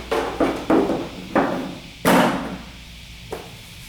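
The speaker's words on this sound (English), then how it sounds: "Now we're going to put our motor cover back on." A dental chair's motor cover being fitted back into place, heard as a series of close, hollow thumps and knocks, about six irregular impacts with the strongest near the middle, then a softer final tap.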